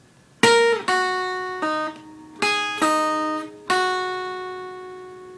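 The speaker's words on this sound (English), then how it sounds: "Now I'm going to show you what the lead guitar does for the verse" Guitar plays the lead line from the verse of a song, six clean picked notes and double stops rising and falling, each left to ring out, close and solo with no voices.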